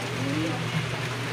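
Steady rain falls during a bird race lap in San Fernando, La Union, a continuous even hiss with a low hum underneath, no voices present.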